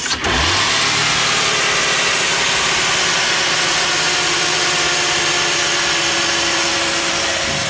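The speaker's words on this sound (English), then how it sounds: "watch me give it a little gas and listen to it rev" A 2000 Lincoln LS engine runs loud and steady, revving up briefly at the start and then holding a high, sustained roar with no voices.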